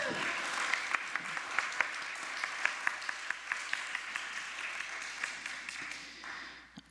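A church congregation gives warm applause for a new mother. A dense, steady patter of many hands clapping runs throughout and fades out at the end, with a brief voice heard near the start.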